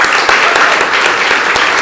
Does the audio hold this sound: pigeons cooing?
no